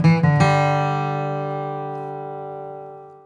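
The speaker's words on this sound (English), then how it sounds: "Now, the G run sounds like this." Acoustic guitar plays the classic bluegrass G run, a quick burst of picked notes that lands on a ringing chord and decays slowly over a few seconds, heard alone without speech.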